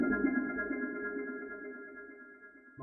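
Synth bell tone processed through a Gross Beat static flange preset, sustaining as a steady tonal drone with bright harmonic partials and a hollow, phasey coloring; it fades gradually over about three seconds with no voices.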